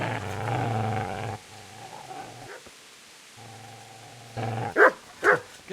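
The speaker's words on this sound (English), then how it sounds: "Get away, you mutt!" A dog in the medieval game Kingdom Come: Deliverance gives a few sharp, loud barks near the end, after stretches of low ambient sound and a growl-like rumble.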